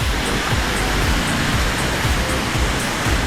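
Ban Gioc waterfall on the China border pouring strongly, a loud, constant broadband roar of rushing water with no voices, steady throughout.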